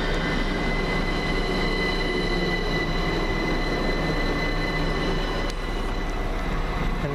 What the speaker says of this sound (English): Working the 1410 London Overground service from Stratford to Richmond.